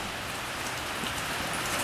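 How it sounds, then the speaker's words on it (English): Heavy rain pours down on a boat, a dense, steady hiss of drops that stays even and unbroken throughout with no other sounds. "It's a severe rain out today on the boat."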